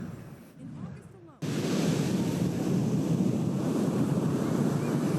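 On windy Carolina Beach, North Carolina, strong gusts buffet the microphone over a steady roar of surf; a brief quieter moment gives way to a loud, constant wash of wind and waves.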